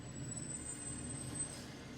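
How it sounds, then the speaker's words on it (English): A low, rumbling recycling truck engine idles nearby, with a steady drone and a thin high whine over it. "I think that's the recycling truck."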